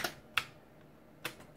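Keys pressed on a Model F 62-key keyboard, with three or four sharp, separate clicks spaced irregularly against a quiet background.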